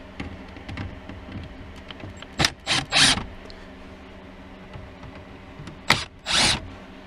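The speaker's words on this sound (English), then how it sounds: "Let's take those two screws out and see." Two Phillips screws come out of a 2005 Pontiac GTO dash pod, heard as quiet clicks and a few sharp bursts of screwdriver ratcheting, close up with no talking.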